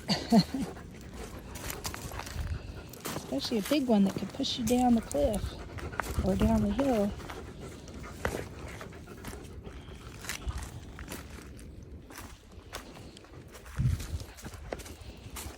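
A big dog pants and steps along while being led down a steep hillside trail, its breathing and footfalls close and mixed with rustling, under a person's ongoing speech.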